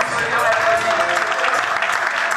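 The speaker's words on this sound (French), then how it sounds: "On applaudit très fort pour tous." Audience applause at a Toastmasters Women's Day event, steady dense clapping filling the room throughout, loud and close, with voices mixed in underneath.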